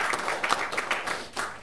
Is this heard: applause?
yes